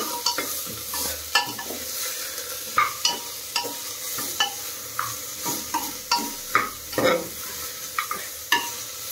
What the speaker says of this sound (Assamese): মাংসটো ঠেংকেইটা অকণমান ৰঙা হোৱালৈকে ভালকৈ ভাজি ল'ম